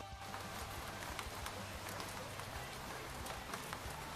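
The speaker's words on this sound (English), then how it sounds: "Pitter-patter. That is the sound of rain." Steady rain pattering on a surface, a dense, even wash of drops with scattered sharper ticks, fairly loud and continuous throughout with no voices.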